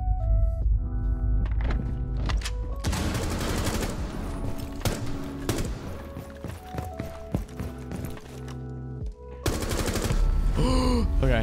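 Gunshots in a video game: loud repeated shots and heavy thunks in irregular bursts, with rapid runs that sound like machine-gun fire, plus clattering impacts and brief quieter pauses.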